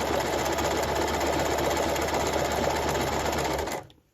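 A sewing machine stitches a buttonhole in a rapid, even, close mechanical whir that runs steadily and then stops abruptly near the end.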